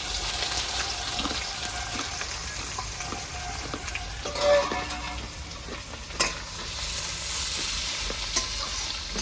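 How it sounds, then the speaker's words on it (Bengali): Chopped onions fry in hot oil with cumin, garam masala, cinnamon, cloves and small cardamom, giving a steady close sizzle broken by a few sharp stirring clinks, with no voices. "পেঁয়াজটা হালকা আমার লাল লাল ভাজা হয়ে গেছে"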